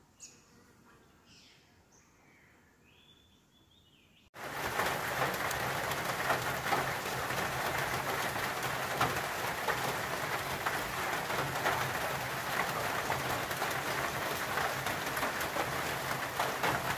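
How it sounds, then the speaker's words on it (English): After a few quiet seconds with faint bird calls, heavy rain abruptly sets in over Lake Maringup on the Bibbulmun Track and keeps pouring steadily, a dense, loud hiss close by. "The lake just about disappeared in the rain."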